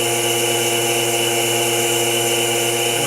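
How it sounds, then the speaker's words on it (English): A vacuum pump for a woodturning vacuum chuck runs with a steady, continuous mechanical hum and whine, close and loud, with no break or change in level. "I've got my pump ready to go."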